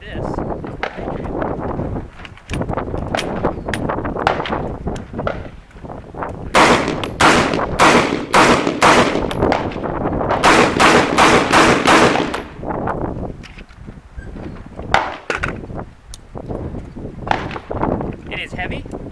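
A Metal Gear Solid Patriot functional replica gun fires in rapid bursts of loud, sharp automatic shots, with short pauses between volleys and a voice talking between them.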